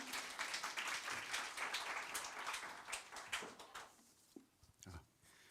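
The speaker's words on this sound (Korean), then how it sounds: "여러분 큰 박수로 환영해 주시면 감사하겠습니다." An audience at a lecture applauding to welcome a speaker, a dense wash of clapping at moderate distance that fades out after a few seconds, followed by a few stray sounds.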